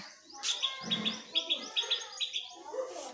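A pet bird chirps in quick, repeated high bursts close by, with a faint low murmur briefly underneath.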